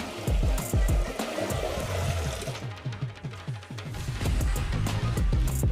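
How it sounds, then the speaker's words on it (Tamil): Lentils (dal) are rinsed under running tap water, a steady splashing gush with rhythmic sloshing and swirling as the grains are stirred by hand, fairly close. "இப்போ பருப்பை நல்லா கழுவிக்கலாம்"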